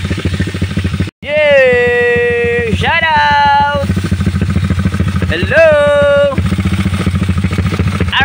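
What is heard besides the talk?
motorcycles revving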